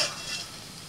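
Potato and bitter gourd frying in oil, a brief, soft, even sizzle with a continuous hiss and no voices.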